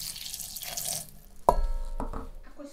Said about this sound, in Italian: Inseriamo l'acqua.